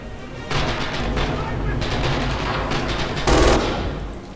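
An MG 42 machine gun in Red Orchestra 2 fires in rapid, loud bursts, with a rattling stutter of shots and a heavier blast near the end.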